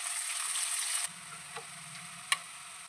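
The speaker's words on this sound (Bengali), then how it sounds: "পেঁয়াজ ভাজা হয়ে গেছে" Chopped onions frying in oil with bay leaf, whole garam masala and green chilli, a loud sizzle that drops abruptly to a quieter hiss after a second, with a couple of sharp utensil ticks.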